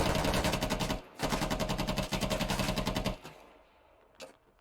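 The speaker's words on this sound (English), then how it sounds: "the machine gunner pre-firing his way down" A machine gunner fires long, rapid bursts in a military video game, with loud, close automatic fire rattling steadily for about three seconds before cutting off, then a faint tail and a brief sharp click.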